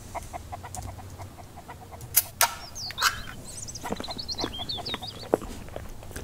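Chickens clucking in the survival video game MIST Survival, repeated soft clucks and chirpy calls over a low ambient hum, with a few sharp clicks and footstep-like taps mixed in, no talking.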